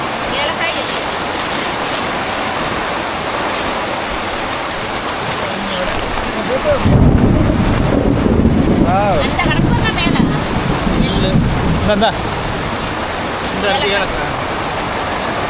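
Heavy downpour on a hillside during Diwali, a dense continuous roar of rain and rushing runoff water with gusty wind noise, growing louder midway; voices talk faintly underneath, no thunder evident.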